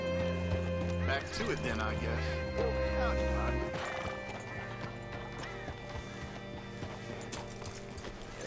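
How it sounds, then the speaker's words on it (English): Horse hooves clip-clopping in the video game Red Dead Redemption 2, a steady walking rhythm under game music and a voice speaking, with a brief whinny among the footfalls. "Hitch your horse up here."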